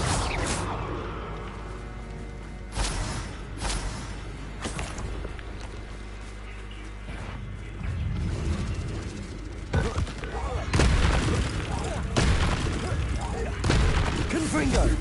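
Bombarda spell blasts in Hogwarts Legacy erupt as several booming bursts and crashes amid whooshes of spellcasting, mixed with ongoing talk over the combat.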